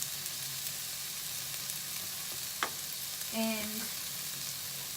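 Okra fries in a pan with coriander powder and garam masala, a soft, steady sizzle heard close, with a single short scrape and a brief tonal squeak as the spices are stirred in, and one quiet spoken word.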